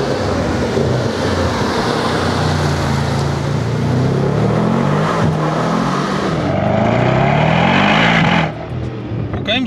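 A Mercedes-AMG GT Brabus 800 with a nine-speed gearbox and 4MATIC+ drive accelerates hard, its loud engine climbing through rising revs with a gear change before backing off near the end.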